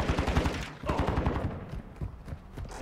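Rapid bursts of automatic gunfire in a Call of Duty: Modern Warfare 2 online match, loud and close, with dense overlapping shots and brief pauses between volleys.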